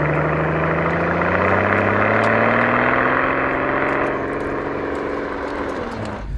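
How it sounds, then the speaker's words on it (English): A V12 car engine heard from outside, a loud, smooth, sustained drone with layered harmonic tones that hold steady, then ease slightly lower toward the end. "I wasn't really able to pick that V12 note that it should have"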